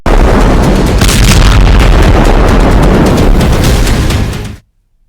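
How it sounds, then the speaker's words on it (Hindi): Bombing explosions in southern Lebanon from Israeli strikes create a loud, continuous booming rumble with crackling bursts for about four and a half seconds, then cut off abruptly into silence. No voices. "इजरायली सेना लगातार लेबनान, खास तौर से दक्षिणी लेबनान में बम बरसा रही है"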